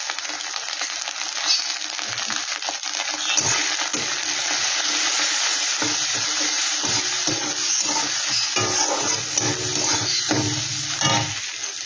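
Ground spices with chilli powder, Kashmiri chilli powder, coriander powder and turmeric sizzling and being stirred in a pan for a Bengali prawn malaikari, a steady close frying hiss broken by scraping stirs.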